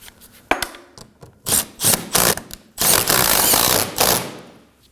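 A 10mm bolt being turned in on a 2014-2020 Acura MDX radiator, with close metallic ratcheting bursts, clicks and scraping in uneven spurts, each burst lasting under a second.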